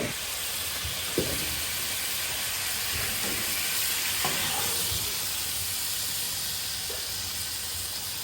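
Chicken fried rice frying on a Blackstone griddle, a steady, even sizzle and hiss that holds throughout, with a few soft scraping knocks, close and fairly loud and with no talking.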